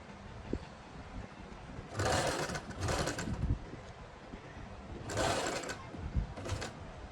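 Sewing machine stitching lace onto a dupatta, running in four short bursts of rapid mechanical whirring and clatter with quieter handling pauses between, close and moderately loud, no talk.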